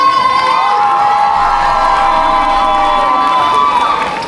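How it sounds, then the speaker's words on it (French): Crowd at a cosplay contest cheering and calling out, with scattered whoops and applause, loud and continuous throughout before tapering slightly at the end. "On applaudit s'il vous plaît!"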